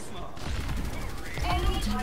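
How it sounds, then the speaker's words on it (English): Torbjörn's turret firing in Overwatch, a dense rapid clatter of shots running about two seconds amid the busy mix of a match, with voices faintly underneath. "I just heard a turret"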